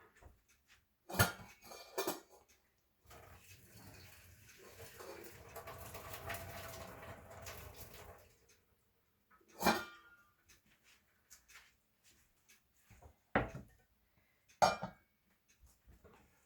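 Boiled potatoes drained and mashed in a home kitchen: a stretch of pouring, hissing water is followed by a few sharp clinks and knocks of a pot and utensils, separated by quiet pauses.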